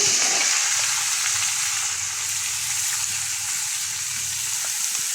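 Garlic frying in hot oil for a pickle, a steady bright sizzle crackling close and loud throughout, with faint stirring and no talk.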